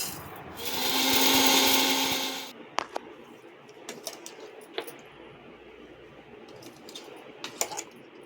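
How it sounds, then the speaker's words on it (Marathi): A mixer grinder whirs loudly for about two seconds grinding dried buffalo colostrum, then stops, followed by scattered light clinks and taps of the jar and utensils. "इथे आपण चीक मिक्सरला लावून घेऊयात"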